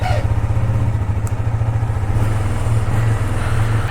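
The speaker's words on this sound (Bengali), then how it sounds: "এনিওয়ে কোল্ড স্টার্টটা একটু দেওয়া যাক।" A KTM Duke motorcycle cold-started at a mountain homestay in North Sikkim idles loud and close with a steady, throbbing single-cylinder beat and no one talking.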